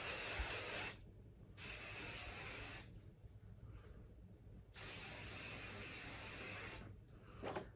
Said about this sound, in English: So I'm gonna spray before I finger comb.